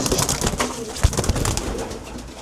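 A 2013 racing pigeon coos close by in a loft box, soft throaty calls repeating over low background rustle, with no talk.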